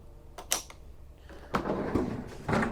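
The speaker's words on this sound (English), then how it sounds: "You have a nice deep drawer here for storage in there." A deep storage drawer in a 2024 Renegade Verona 40VRB RV opens with a few soft sliding rumbles and light knocks, quiet and close, with no talk.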